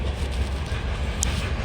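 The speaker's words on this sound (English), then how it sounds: "the train is just going by" A coal-hauling freight train rolls past outdoors, a steady broad rumble with faint clatter, continuous and fairly close, with no talking.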